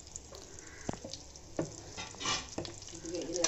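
Almond slivers and raisins fry in hot ghee in a pan, a soft sizzle broken by sharp scraping and stirring clicks at close range.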